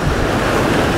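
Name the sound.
big ocean wave crashing at a surfside jetty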